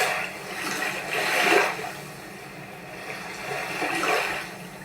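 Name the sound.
water sound effect added in iMovie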